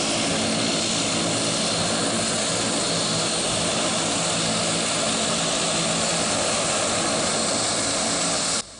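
Propeller aircraft engines roar continuously and fairly loud at a military air base tarmac in Douala as Chinese MA-60 planes land, a broad steady drone with no voices.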